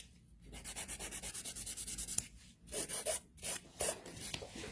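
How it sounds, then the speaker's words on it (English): A nail file rasps over sculpting gel nails in quick, even back-and-forth strokes, then in slower, irregular passes, close up and with no talking. "trying to focus on talking and filing at the same time"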